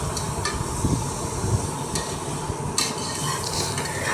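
Prawn biryani masala with tomato sautés in a pan, a steady sizzle broken by scraping stirs and occasional light knocks of the spoon against the pan.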